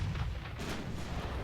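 Naval guns fire in the Ultimate Admiral warship game, a heavy booming report with a rumbling tail and no voices over it.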